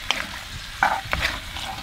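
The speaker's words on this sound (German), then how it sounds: "Ich liebe dieses Sizzeln, Brisseln Geräusch." Beef goulash cut from the leg sears in a Dutch oven for cola goulash, giving a steady close sizzle broken by a few sharp scrapes and clacks of stirring.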